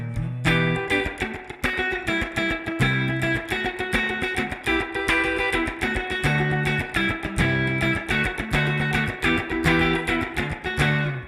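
Electric guitar played through an amp with reverb placed after it, sustained chords and picked notes ringing out in a steady rhythm, loud and up close, with a wet, spacious tail and no talking.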